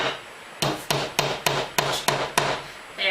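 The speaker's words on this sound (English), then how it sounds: "used a hammer just to get them started" Hammer tapping small metal hooks into the edge of a wooden sign being made with wood burning: seven sharp, evenly spaced knocks, each ringing briefly, close and fairly loud with no talk.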